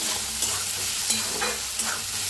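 Rice roasting dry in a pan with potato for a fasting meal, a soft steady hiss and sizzle with a few light scraping stirs breaking through, close and even, no voices.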